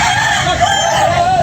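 A gamecock at a Cebu poultry sale crows once, a loud, close, drawn-out call with a wavering pitch over faint background noise.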